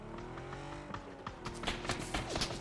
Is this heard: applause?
no